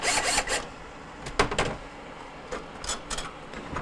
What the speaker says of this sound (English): now on this wall bracket here, just need to loosen the screws.